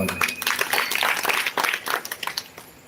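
Brief, lively applause from a crowd gathered for a Warkari kirtan session, a burst of clapping that thins out toward the end.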